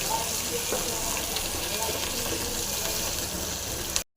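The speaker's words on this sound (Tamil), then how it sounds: "அடுத்தது சாம்பார் வெங்காயம் இது வந்து நல்லா ஃப்ரை ஆகட்டும்" Shallots and garlic fry in oil for a Tamil thumbai leaf kadayal, giving a steady, dense sizzle throughout at close range before cutting off abruptly at the end.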